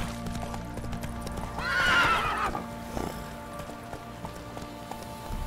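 The horse Roach in the video game Witcher 3 lets out a loud neigh over steady clip-clopping hooves, set against a low game soundscape.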